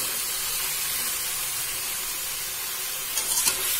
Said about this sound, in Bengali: এখন মা প্রথমে ডাটাটা ছেড়ে দিল। এরপর সবজিগুলো দিয়ে দেওয়া হচ্ছে।